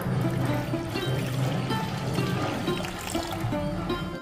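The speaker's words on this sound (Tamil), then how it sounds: "அதில் ஒரு 3 கப் அளவு தண்ணி சேர்த்துக்கலாம்." Water pours steadily into a cooking pot of rice, a continuous splashing gush up close that lasts throughout.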